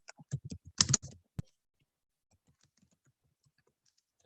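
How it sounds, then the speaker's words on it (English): Keystrokes on a computer keyboard, a quick burst of clustered clicks followed by one sharp tap, then near silence with a last click at the end; close and fairly quiet. "I'm gonna get better about typing"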